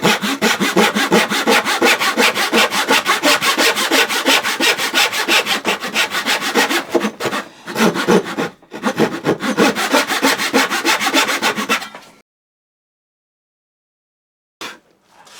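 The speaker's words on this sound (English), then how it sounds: "I'm still going to put a relief cut in the middle." A hand saw cuts a relief kerf in a small wood piece for a tapered sliding dovetail, rapid rhythmic rasping strokes close up with a couple of short breaks, then silence and a faint knock.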